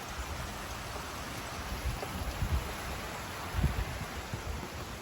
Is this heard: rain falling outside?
yes